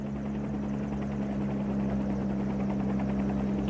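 A Bell 47 helicopter in a flight simulator game, its rotor and engine making a steady, loud, continuous drone with strong low hum throughout, alone with no voices.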